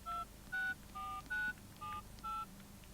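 A telephone number is keyed in as a sequence of six distinct touch-tone beeps, each short and steady with brief gaps between, fairly quiet over a faint background hum.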